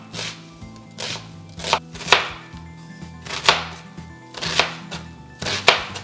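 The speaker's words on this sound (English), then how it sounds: "we're going to go in with 1 white sweet onion and we're going to finely chop it up" A knife finely chops a white sweet onion on a cutting board. The close chopping comes in irregular clusters of crisp strokes, each set ending in a sharp thunk, and no one speaks.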